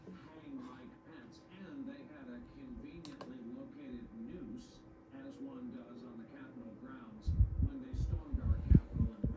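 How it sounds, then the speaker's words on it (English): A 10-inch Opolar desk fan starts up and hums steadily at a low pitch while someone talks nearby, with heavier low rumbling thumps near the end. "Yep, it does have a startup sound. It also has a hum."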